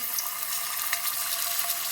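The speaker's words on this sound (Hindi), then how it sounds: "अब हम इसमें चिकन फ्राई करेंगे" Steady sizzling and crackling of chicken frying in a hot pan for chicken korma, a dense bright hiss with small pops, no voices.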